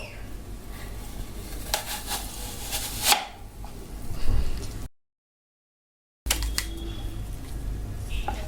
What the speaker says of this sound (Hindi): पहले एप्पल को काट लें